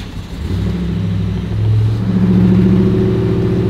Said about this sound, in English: that doesn't sound like a normal Raptor. Give it a little gas.